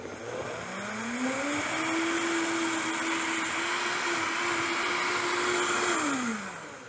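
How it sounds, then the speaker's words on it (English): A Vitamix blender whirs through a load of greens, its motor climbing to a steady, loud drone, holding for several seconds, then winding down at the end. "first let's go ahead and blend in the Vitamix"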